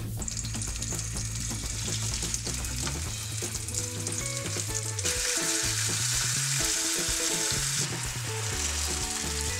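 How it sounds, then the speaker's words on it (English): Vegan bacon (facon) frying in a pan, later glazed to caramelise, makes a loud, constant sizzle that swells partway through. Background music runs over it the whole time. "we'll fry it up, and then the last kind of 30 seconds, we'll add a bit of the glaze on and fry it again"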